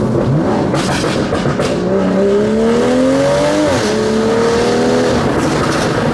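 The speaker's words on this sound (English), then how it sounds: "if it wasn't for the exhaust notes that this car makes, I wouldn't even know that it's shifting." A BMW performance sedan with an automatic transmission sends out a steady, droning exhaust note that climbs in pitch, drops at a gear change and then climbs again.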